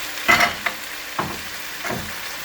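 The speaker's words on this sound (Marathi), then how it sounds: "हे हितून बरे भाजून घेवपाचे." Pork ribs are roasted in a pan, Goan style, before the masala goes in, giving a low, steady sizzle broken by a few scraping bursts of stirring, with no voices.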